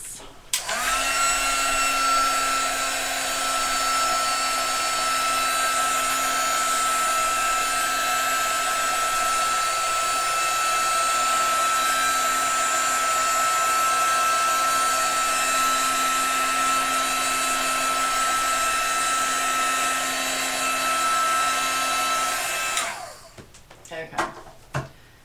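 A hair dryer blows steadily on Inktense paint for about 23 seconds, a loud, constant whirring drone that cuts off near the end, followed by brief handling noises.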